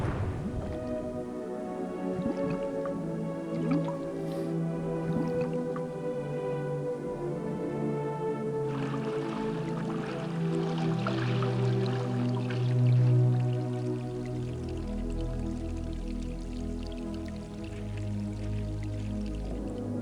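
Watery dripping and flowing sounds from the MS-DOS adventure game The Dig play steadily over a sustained droning game soundtrack, with no talking.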